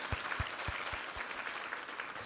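A church congregation at a Korean Sunday Thanksgiving service gives a round of applause, soft steady clapping heard from a distance, with a few low thuds at the start.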